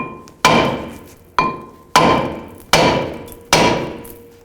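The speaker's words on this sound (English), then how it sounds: "Just take a hammer and just hit in these locations." Five heavy metallic hammer blows strike a brake rotor on a Nissan Xterra at a steady, unhurried pace, each ringing briefly before the next, loud and close with no talking.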